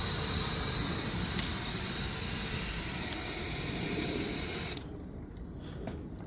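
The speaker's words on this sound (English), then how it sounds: "when I put new wood in," The blower on a wood-fired steam boiler gives a loud, steady rushing hiss that runs for several seconds, then cuts off abruptly and leaves faint background sound.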